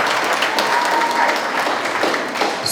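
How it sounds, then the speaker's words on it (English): Audience clapping at a school book fair, a few seconds of steady, moderately loud applause from a gathered crowd, with no speech. "let's give a round of applause first."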